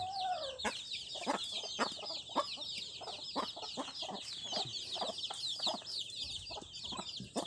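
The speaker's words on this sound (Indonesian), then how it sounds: "nanti balik ayamnya Bang Milala sudah banyak sudah menetas semua" Chickens clucking steadily on a rural farm, several hens overlapping in a continuous chatter with soft chirping, fairly close and without talk.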